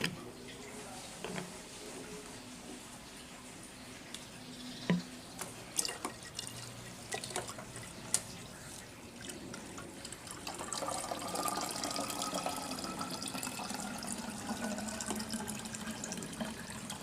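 Water being poured into a container to top up an AB Mix hydroponic nutrient solution to 1000 ml, heard as close dripping and splashing that builds into a steadier, fuller pour in the latter half.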